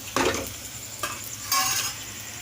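Chopped tomatoes drop into a hot pan of paneer bhurji, giving short bursts of sizzling and stirring, three distinct surges of frying noise close by with no talk.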